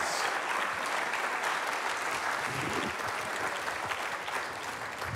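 An audience at a live morning show claps as an award winner is called on stage, producing loud, sustained applause that runs evenly throughout with little talk over it.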